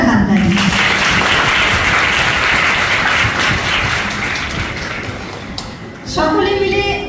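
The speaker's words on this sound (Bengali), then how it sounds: "জোরদার হাততালি।" Sustained loud applause from an audience at a girls' school Teachers' Day event, dense and steady for several seconds before thinning out, with a voice beginning to speak near the end.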